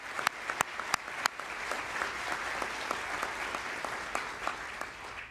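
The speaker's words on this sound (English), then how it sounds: "Let's give them a round of applause." Steady audience applause at a State Department human rights awards ceremony, a dense wash of clapping with a few sharp, louder claps standing out near the start, holding at an even level throughout.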